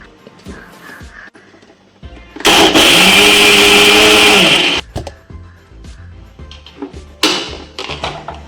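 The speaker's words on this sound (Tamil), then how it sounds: "பூண்டு, இஞ்சி, கருவேப்பிலை, சோம்பு இதெல்லாம் மிக்சரில் சேர்த்து நல்லா கொரப்பாக அரைச்சி எடுத்துக்கோங்க" A mixer grinder whirs loudly for about two and a half seconds, grinding garlic, ginger, curry leaves and fennel to a coarse paste, starting and stopping abruptly between quieter kitchen clatter.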